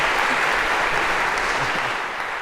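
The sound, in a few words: audience applause for Spot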